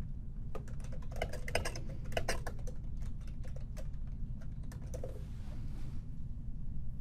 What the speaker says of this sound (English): type your response here in the body